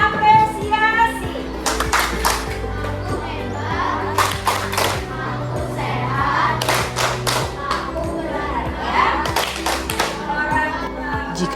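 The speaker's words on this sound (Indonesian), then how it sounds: "Tepuk apresiasi." Classroom children at SDN 4 Metro Timur doing a rhythmic patterned appreciation clap, sharp clustered hand claps and taps in repeating bursts, with children's voices chanting along and a background hum.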